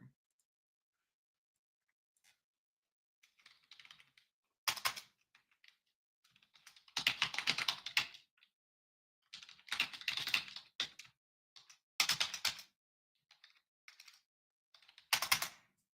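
Notes being typed on a computer keyboard, with short clattering bursts of keystrokes separated by pauses, close and fairly quiet.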